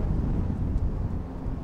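Low, rumbling buffeting of wind against an external camera microphone fitted with a wind muff, continuous and muffled, with no voices.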